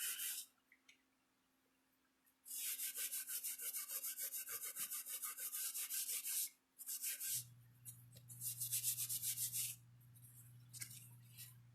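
A file rasps back and forth on copper corners in quick, rhythmic strokes, in two close bursts separated by brief pauses, with a low hum underneath.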